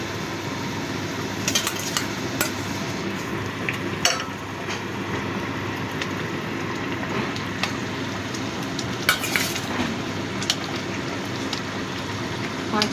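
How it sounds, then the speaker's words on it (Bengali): Pieces of katla fish go into a bubbling curry gravy. The simmer keeps a steady, close sizzle, with scattered clicks and small splashes throughout. "ঝোলটা ফুটে উঠেছে, এবার আমি মাছগুলো প্রথমে দিয়ে দিই।"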